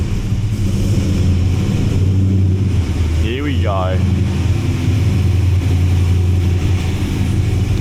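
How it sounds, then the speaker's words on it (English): A GTO car pulls up with a loud, steady engine rumble throughout. A voice speaks briefly partway through. "now we've got the GTO pulling up"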